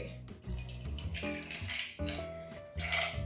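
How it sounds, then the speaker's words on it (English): Ice cubes added carefully to a cocktail glass, a series of close, bright clinks and knocks against the glass, loud and ringing, alone without voices. "we're going to add our ice very carefully"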